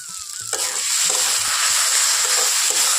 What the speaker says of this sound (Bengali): এখন সবগুলো উপকরণ খুব ভালোভাবেই নাড়াচাড়া করে এখানে একটুক্ষণ রান্না করে নিতে হবে